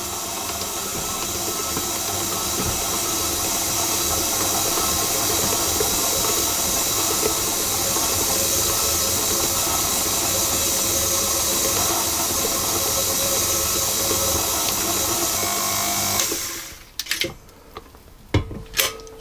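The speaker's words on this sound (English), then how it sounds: "mixing still on medium speed, for 4 to 5 minutes until the butter is fully incorporated" A stand mixer kneads brioche dough with butter at medium speed, a steady loud motor whir with rattling from the bowl that runs on, then cuts out and leaves a few clanks.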